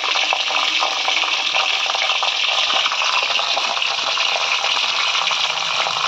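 Pointed gourds (potol) fry in oil in a pan with a loud, steady, dense sizzle that stays constant throughout, close up and with no voices.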